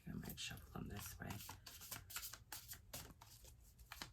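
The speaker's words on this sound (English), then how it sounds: "I might shuffle them this way." A deck of slightly bendy tarot cards being shuffled by hand, quiet close rustling and flicking in short bursts, with someone talking over it.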